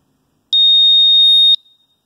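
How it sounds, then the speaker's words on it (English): A single loud, steady high-pitched electronic startup beep from a MultiRAE Pro gas meter, lasting about a second, clean and isolated against silence. "press and hold the mode button until the beep sounds"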